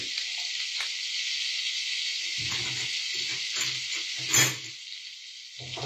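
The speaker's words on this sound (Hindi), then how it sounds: "जैसे ही थोड़ा गर्म हो जाता है, आपको sizzle होना शुरू हो जाता है" Chopped garlic sizzles in hot oil over low flame, a bright, continuous hiss broken by several soft stirring clatters and one sharper spatter burst near the end.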